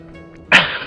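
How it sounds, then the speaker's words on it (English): The character Bentley in the video game Sly 2 lets out a single sharp, close sneeze, a sudden loud burst after a quiet moment of game ambience. "That's pretty funny that Bentley's kind of sneezing right now"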